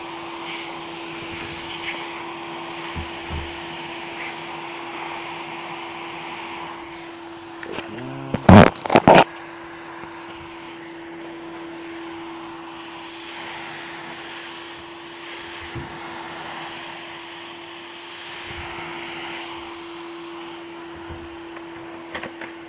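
A vacuum cleaner nozzle sucks dust from a PS3 Ultra Slim console, a steady whining drone throughout with a brief burst of loud clattering bumps near the middle.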